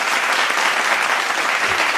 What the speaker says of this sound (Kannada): ಈ ಬ್ಯೂಟಿಫುಲ್ ಪರ್ಫಾರ್ಮೆನ್ಸ್ಗೆ ನಿಮ್ಮೆಲ್ಲರ ಕಡೆಯಿಂದ ಜೋರಾದ ಚಪ್ಪಾಳೆ ಬರಲಿ